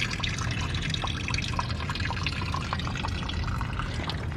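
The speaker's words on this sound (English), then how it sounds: "now I got clear water coming out of it" Clear water pouring and splashing steadily out of a part being flushed during maintenance on an MK5.5 Volkswagen GTI Jetta, a continuous close trickle and spatter with no speech.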